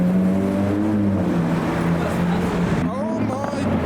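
A Ferrari 812 GTS sports car rolls past on a busy London street near Buckingham Palace, its engine a loud steady drone with a falling tone, heard up close amid traffic and crowd noise.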